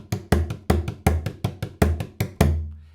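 A bodhrán struck in an irregular rhythm in seven, nine close, resonant booming hits grouped in short clusters, with the last stroke left to ring and fade.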